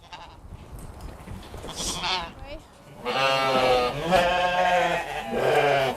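Ewes bleating while being herded by a farmer, several overlapping calls growing louder and more insistent in the second half, close by, with a voice calling to them between bleats.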